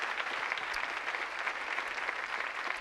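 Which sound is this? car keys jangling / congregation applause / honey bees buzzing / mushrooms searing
congregation applause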